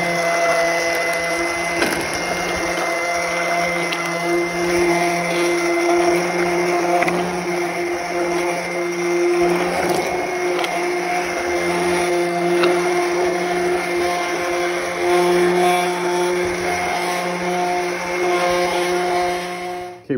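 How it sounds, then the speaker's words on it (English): Immersion blender whirring steadily at high speed through jam for a long stretch, a loud motor hum with a whiny pitch, close up and uninterrupted. "I got my immersion blender. I'm gonna put it in"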